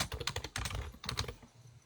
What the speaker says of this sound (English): You guys hear me typing.